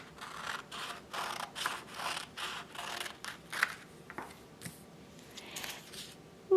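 Scissors cutting out a paper square, a close series of about eight rhythmic crisp snips in the first half, then slower, scattered cuts and paper rustles.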